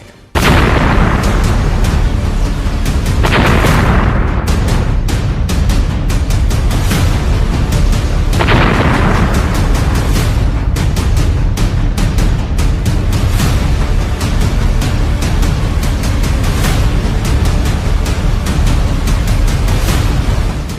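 A dynamite blast at Shivamogga captured by a building's CCTV: a loud, continuous roar of blast noise with several sharp booming onsets early on, sustained rumble and crackle throughout, no speech.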